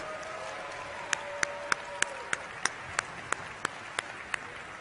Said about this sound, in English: can we give a big round of applause for all of our volunteers?